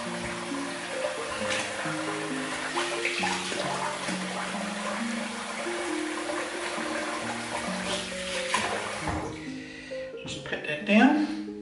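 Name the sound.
water running while rinsing off after a shave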